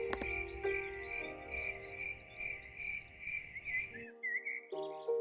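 Cricket chirping at twilight, a steady run of high, regular pulsing chirps close and clear, with a soft tonal background that drops out near the end before the chirping resumes briefly.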